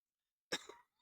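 A single short, harsh cough sounds close and alone against silence, with a brief raspy tail.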